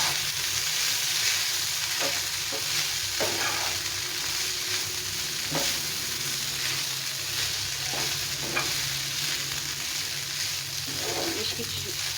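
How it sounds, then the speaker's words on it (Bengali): Boiled pasta is stirred and fried in a pan. A steady sizzle runs throughout, with scattered scrapes and clinks from the stirring at irregular intervals, close and moderately loud. "পাস্তাটাকে ভালো করে নেড়ে চেড়ে নেবো।"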